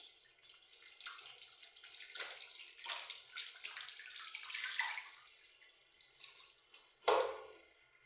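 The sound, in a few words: water flowing from a tap fed directly by a Polytank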